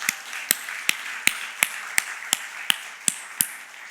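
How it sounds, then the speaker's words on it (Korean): A church congregation at a Sunday morning service claps in unison, about eleven sharp, evenly spaced claps in a steady rhythm over a faint background hum. "우리 강 집사님 건강하시라고 박수 한번 쳐드리겠습니다."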